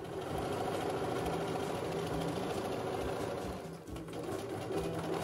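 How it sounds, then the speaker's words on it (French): A sewing machine stitches around the edge of a scarf 5 mm from the border in a steady, fast, close mechanical whir and rattle, with a brief dip near the end. "je vais à la machine pour coudre à 5 mm du bord tout autour."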